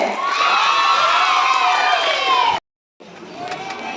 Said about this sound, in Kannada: ಜೋರಾದ ಚಪ್ಪಾಳೆ